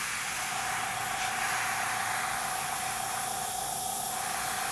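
An airbrush hisses steadily as paint is sprayed onto a Tamiya 1/48 F-14A model over salt masking, a constant close, airy spray without pauses and no talking.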